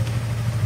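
A steady, low engine rumble idles throughout, like a 2015 Yamaha MT-25 motorcycle ticking over nearby, with no voices.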